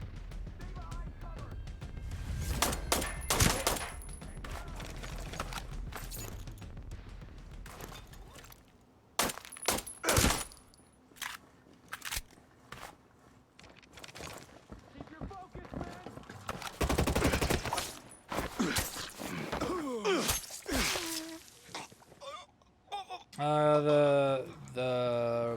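Pistol fire in the Ghost Recon Breakpoint video game, with scattered sharp shots in uneven bursts, some louder and closer, breaking and clattering effects in between, and a voice talking over parts of it.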